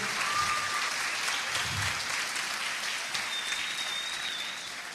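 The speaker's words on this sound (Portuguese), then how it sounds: "Dê uma forte salva de palmas para Jesus, aleluia" A church congregation applauds steadily, a dense, even wash of many hands that holds for several seconds before easing off slightly at the end.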